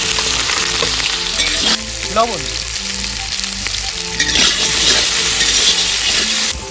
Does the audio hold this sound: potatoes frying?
yes